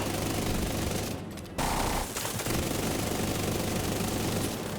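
Dense, sustained bursts of automatic gunfire from a video game, a rapid continuous barrage that breaks off for a moment and then resumes at full intensity.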